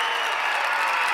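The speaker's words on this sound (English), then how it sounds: "Where is my cheering sound?" A cheering and applause sound effect is played during a live online show, a steady wash of crowd clapping and cheering that fills the whole short moment without pause.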